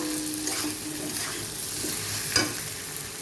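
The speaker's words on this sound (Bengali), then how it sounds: "দেখো আমার মশলা পুরো কষা হয়ে গেছে" Masala spice paste stirred and fried in a pan: a steady sizzle throughout with scraping stir strokes, one louder clack near the middle, close and alone with no voices.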